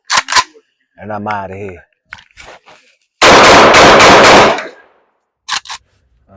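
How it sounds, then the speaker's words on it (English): Rapid string of gunshots from a micro pistol at an outdoor shooting range, one loud burst of about five quick rounds, with someone speaking briefly before and after. "Last 5 rounds out the micro."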